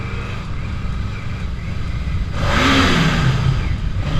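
A Yamaha VMAX motorcycle engine drones steadily, then rises into a loud, echoing rev that rings and swells under a bridge.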